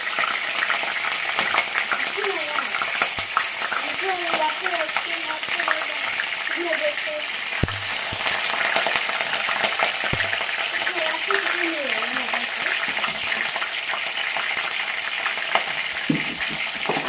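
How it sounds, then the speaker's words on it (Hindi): Chicken dry-frying in a hot pan until crisp gives a loud, continuous sizzle with occasional stirring clatter. Someone talks throughout over the frying. "एंड गाइस इसको क्रिस्पी होने तक फ्राई करेगा ड्राई फ्राई करके"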